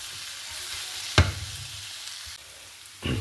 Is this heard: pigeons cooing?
no